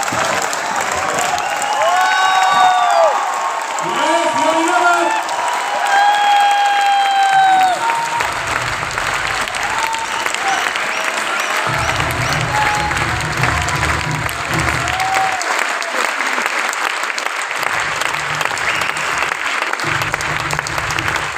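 Sustained audience applause and cheering welcoming a guest at a live birthday event, dense clapping with brief whistles and shouts early on, continuing steadily to the end.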